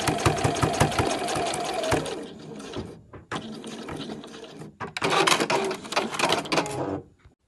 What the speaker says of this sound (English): And we'll just sew along the other end.